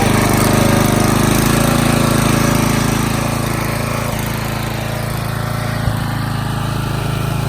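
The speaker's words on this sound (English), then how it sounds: "He's got a nice piece of ash he's splitting there." An engine-driven log splitter works through a piece of ash firewood, its motor droning loud and steady throughout, close by, with no voices.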